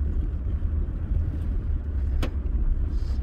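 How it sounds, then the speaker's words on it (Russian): Large trucks hauling cinder blocks roll along a broken-up village road, a steady heavy engine rumble close by with a brief sharper noise near the end and no talk. "И сейчас по дороге ездят эти большие машины."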